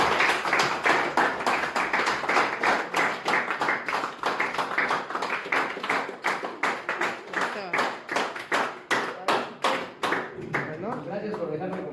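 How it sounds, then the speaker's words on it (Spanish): Audience at a Christian social-service foundation gathering claps steadily, with dense, fairly close clapping through most of the stretch; it thins into more distinct, rhythmic claps near the end. "Un aplauso."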